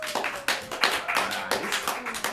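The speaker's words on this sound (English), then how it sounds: "Clap your hands if this is your first time to the Hideout Theater." A theater audience at an improv show at the Hideout Theater clapping their hands, a dense, lively patter of applause that carries on steadily for a couple of seconds.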